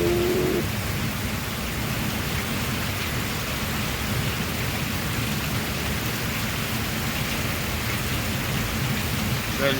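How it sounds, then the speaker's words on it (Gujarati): Heavy first-of-season monsoon rain pours steadily over farm fields with low thunder rumbling beneath, a dense, loud, unbroken hiss for the whole stretch. "વરસાદ"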